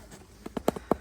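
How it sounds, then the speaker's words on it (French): Pony hooves clip-clop in a short run of about six light, uneven steps, fairly close but soft, with no talk over them. "Un poney en liberté!"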